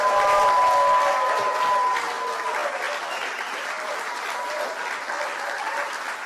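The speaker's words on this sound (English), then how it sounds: "Susie deserves a great round of applause." Audience at a dinner event at Mar-a-Lago in Palm Beach breaks into loud, sustained applause that starts strong, then settles into a steady, slightly softer roar with some crowd noise.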